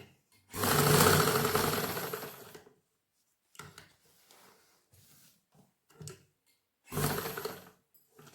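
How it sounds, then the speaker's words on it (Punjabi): A sewing machine stitches the placket of a kurta, whirring loudly and close in one long run, then several short stop-start bursts, and another strong run near the end. "ਇੱਥੇ ਦੋ ਵਾਰ ਸਲਾਈ ਲਾ ਲਿਓ"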